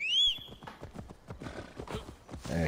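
A horse in the video game Assassin's Creed Valhalla whinnies briefly, then rapid hoofbeats clop along in a steady galloping rhythm.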